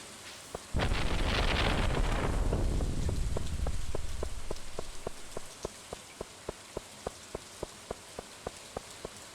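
Heavy rain and rolling thunder in a modded Stardew Valley, a loud downpour and rumble that fades over several seconds, followed by a steady series of evenly spaced soft ticks.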